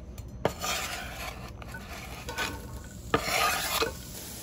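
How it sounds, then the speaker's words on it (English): Onions cook in bacon grease in a pan, giving a continuous close sizzle, with repeated scraping and clacking of a utensil as they are stirred around. "I'm gonna start by cooking these onions up in this bacon grease"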